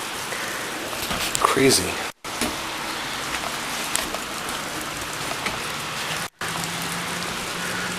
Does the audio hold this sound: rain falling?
yes